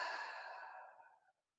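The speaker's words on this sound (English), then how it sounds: "exhale through your mouth. Let all the air out." A single long exhale pushed out through the mouth during a low-back breathing exercise, a close, breathy rush of air that fades away over about a second.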